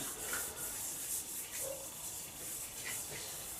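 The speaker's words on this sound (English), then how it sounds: "And I'll give the base a bit of a rubbing. Get some slide oil rubbed into it" Slide oil being rubbed into the base of a Bridgeport milling machine by hand, a soft hissing rub that swells and fades in short repeated strokes, close and fairly quiet, with no speech.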